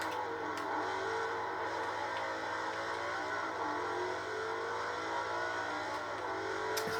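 A car engine in the racing video game Forza Motorsport 4 drones steadily at a constant, mid-pitched whir for several seconds, with no clear revving peaks and no voices.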